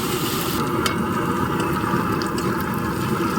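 Chilli, onion and ginger-garlic paste frying in a pan over an outdoor cooking fire in a forest, a dense, constant sizzle close by with faint clinks and no talk.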